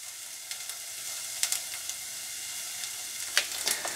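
A whole onion fries in oil in a non-stick pan, giving a faint, steady sizzle with a few soft crackles and pops.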